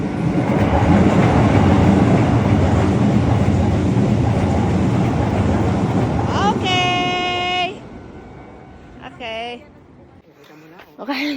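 A rapid or local train in Japan rumbles past loudly and continuously for several seconds, then fades, followed by a high chiming signal tone and some quieter voices and ambient sounds.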